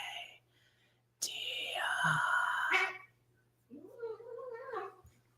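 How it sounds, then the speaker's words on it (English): Cats in a little fight at home, a loud sustained yowl of harsh harmonic wails lasting under two seconds, followed by quieter yowling cries, close and not under talk. "There's a little cat fight, kids."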